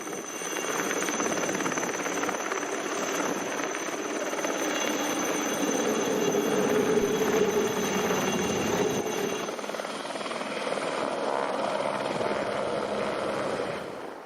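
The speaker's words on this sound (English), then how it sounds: "It's a real challenge for each helicopter to get low and close enough to the small pool, fill their buckets and fly back out." Firefighting helicopters hover low over a small inflatable swimming pool to fill their buckets, a steady loud rotor and turbine roar holding throughout without pause.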